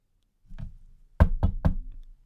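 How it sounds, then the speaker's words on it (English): Knocks land on a flimsy door, loud and close: a soft first tap, then three sharp raps in quick succession, with no voices. "We knocked against the door as it creaked further open."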